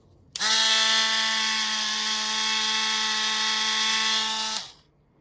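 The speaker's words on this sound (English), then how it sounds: "You're going to want to remove that tarnish and gunk with a wire wheel or a wire brush." A rotary wire wheel spins up and cleans tarnish and gunk off the dirty kill switch contact of a Ski-Doo Rev snowmobile. It gives one steady, close, high-pitched whine of about four seconds that stops abruptly and then winds down.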